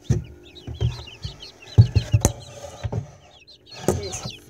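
Five newly hatched chicks in a small brooding box give repeated high, thin peeps, with soft bumps and handling knocks as the box is lifted.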